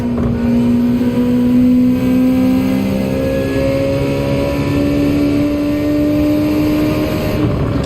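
Race car in the Gran Turismo video game braking and downshifting, a loud continuous engine drone whose pitch slides downward across gear changes, close and dominant with no talk.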